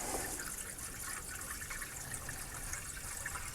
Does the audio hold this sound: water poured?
yes